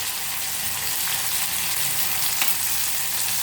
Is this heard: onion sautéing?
yes